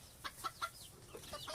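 Hens in a cartoon poultry coop cluck over scattered grain in a quick run of short, bright calls, several close together and then a few more, fairly soft with no talking.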